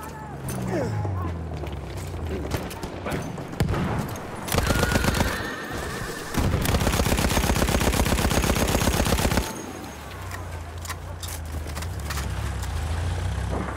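Lewis gun machine-gun fire in a World War One video game, a long rapid burst in the middle with shorter shots before it, over battle ambience and horse whinnies.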